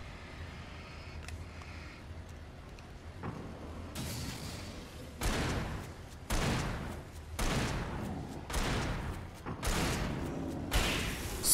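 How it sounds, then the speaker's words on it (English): Gunshots in the video game Alan Wake: a series of loud, sharp reports, about six, spaced roughly a second apart after a quieter lead-in, each with a booming tail. "Six shots."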